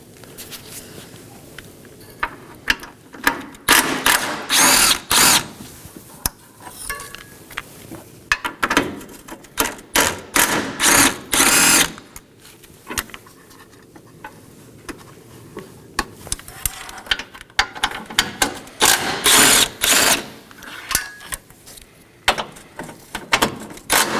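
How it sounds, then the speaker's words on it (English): Ratchet wrench work on 13mm bolts and a nut holding the battery tray of a 2018-2024 Chevrolet Equinox, heard as repeated bursts of rapid ratcheting clicks separated by short pauses and small metallic handling sounds, close by. "to remove our battery tray, we are going to find 3 13mm bolts and 1 13mm nut"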